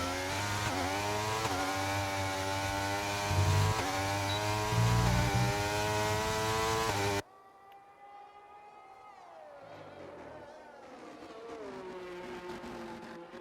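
Mercedes and McLaren Formula 1 cars racing in an F1 league video game, loud high-revving engine whine with rising and falling gear-change pitches, then cutting abruptly to a quieter, more distant engine drone.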